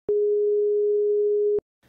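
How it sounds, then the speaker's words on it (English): A pure, steady 415 Hz sine tone, the G sharp above middle C, holds at constant loudness for about one and a half seconds, beginning and ending with a sharp click and followed by silence. "415 Hz sine wave, also known as G sharp above middle C."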